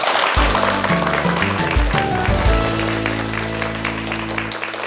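Audience applause rises and continues steadily alongside a musical fanfare with sustained tones, gradually fading toward the end.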